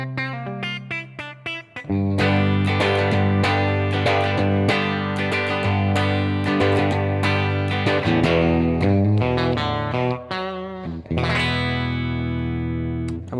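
Electric guitar played through a Blackstar AMPED 1 power pedal set to its EL84 British voicing, clean and chiming with reverb, strummed chords and picked notes ringing loud and continuous with no talking.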